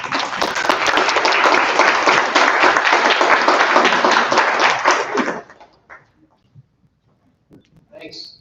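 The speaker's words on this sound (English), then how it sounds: "when we get started with a round of applause" A meeting audience gives a round of applause for a county representative, dense steady clapping lasting about five seconds before fading out, followed by a few faint knocks and a brief voice.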